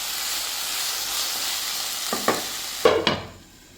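Green chillies sautéing in a pan for garlic chicken, a steady close sizzle with a few sharp stirring scrapes near the end before the frying noise drops away.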